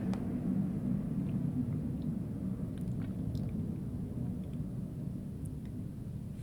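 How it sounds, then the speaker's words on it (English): Low, continuous rumble of military planes flying overhead during Fleet Week in San Francisco, a faint, steady distant roar filling the background with no talking. "Apologies for the plane sounds."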